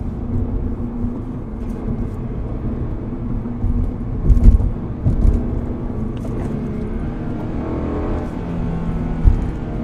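A Subaru BRZ engine drones steadily close by, with a few brief rises in pitch as it revs while downshifting, and no voices over it.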